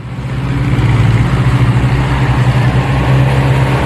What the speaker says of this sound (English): Forklift truck.